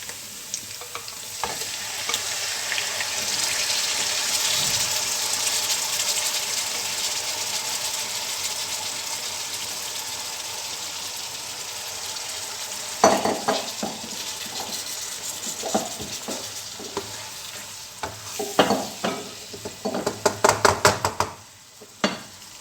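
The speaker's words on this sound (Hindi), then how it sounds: "अब हम इसके अंदर मैरिनेटेड चिकन डालेंगे।" Marinated chicken frying in a pot for chicken biryani gives a long, even sizzle. Toward the end come a run of sharp scraping and stirring knocks, some loud and close.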